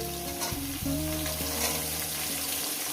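Vegetables fry in a kadai for a fish-head chorchori, giving a continuous close sizzle with occasional stirring scrapes over soft background music.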